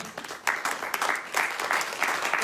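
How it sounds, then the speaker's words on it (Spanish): A church congregation bursts into applause during a sermon, a dense patter of many hands clapping in overlapping waves that swell and ease, filling the room for a couple of seconds. "Si está entendiendo, dele palmas al Rey."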